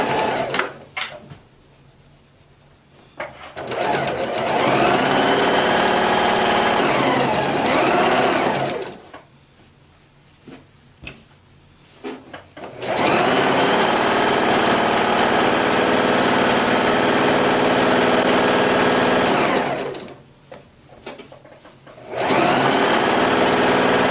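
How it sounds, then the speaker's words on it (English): A sewing machine runs in three long bursts of rapid, whirring stitching, close and loud, separated by short quiet pauses with faint handling noises. "So all the way around on your sewing machine."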